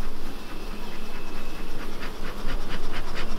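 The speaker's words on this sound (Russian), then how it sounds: "Это пчелы на первом этаже." A dense, buzzing drone of many bees in a beehive fills the air close by, with a faint scraping now and then beneath the continuous hum.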